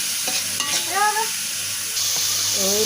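Onion and garlic fry in a little oil in a pan, a soft steady sizzle with scattered spatter and utensil clinks, joined by faint tonal squeaks and brief background sounds.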